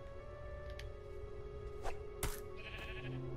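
Sheep bleating in Minecraft: Story Mode, a couple of short bleats over a steady game music bed with low rumbling background.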